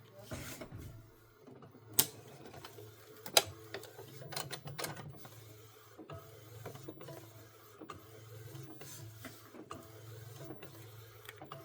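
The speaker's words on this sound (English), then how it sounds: "And the printer will print the color first, and then after it prints the color, it will lay the white down." A DTF printer lays down a color image for a T-shirt transfer with a steady mechanical whir and shuttling carriage movement. Scattered clicks and a few sharp knocks stand out from the hum.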